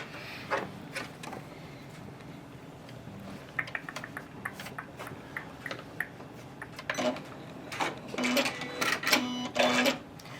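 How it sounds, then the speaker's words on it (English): A Janome 9480 sewing machine does free motion quilting, with scattered needle clicks and taps that build into louder rapid stitching bursts toward the end, heard close and alone. "there are actually 3 ways to do free motion quilting with this machine"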